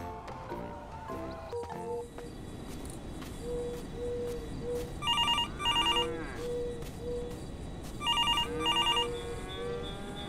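Phone ringtone in GTA 5 with a real-life mod, sounding in two repeated bursts of electronic chirping over steady game ambience and low background noise.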